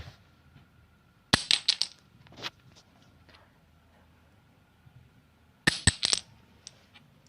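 Two short bursts of bright metallic clinking, like small metal pieces jingling together, separated by a quiet pause.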